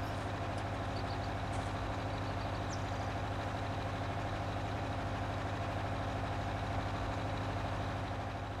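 A tractor engine working a field in a farming video game, holding a steady, continuous low drone at an even level throughout with no talk over it.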